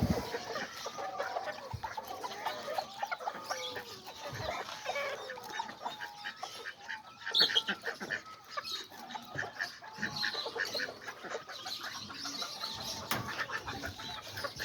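Chickens cluck and a rooster calls in a busy backyard coop among pigeons, with steady overlapping clucks and chatter at close to mid range, no talking.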